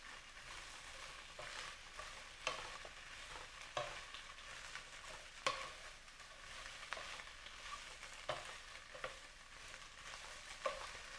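Vegetables stir-frying in a hot pan with shrimp and tofu, a steady low sizzle broken by soft scrapes and knocks as the utensil stirs, close and quiet, no talking.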